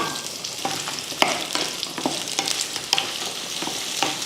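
Onions and garlic cloves sautéing in a pan for chutney, a steady close sizzle punctuated by regular scraping strokes of a spoon stirring the pan.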